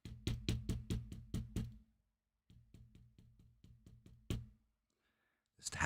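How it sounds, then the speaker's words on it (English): Someone taps on a car window: a quick run of sharp knocks, a brief silence, a second softer run ending in one louder rap, then quiet before a faint noise at the end. "This tapping on the window."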